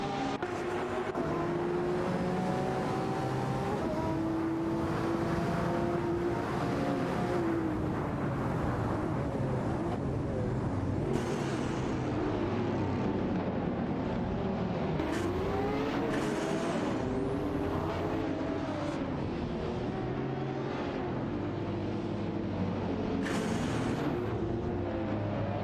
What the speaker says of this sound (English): The dynamic is constantly changing as the cars jockey for position on the track.